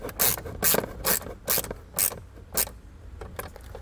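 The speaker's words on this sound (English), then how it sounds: "They're going to attach inside the tabs here using these self-tapping screws that come in your kit." Self-tapping screws driven in by hand to mount a Tekonsha Prodigy P3 trailer brake controller, a series of about seven sharp ratcheting, rasping bursts in a steady rhythm, close and clear with no talking.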